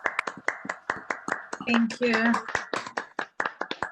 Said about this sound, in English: give Sheena a proper old-fashioned round of applause for that presentation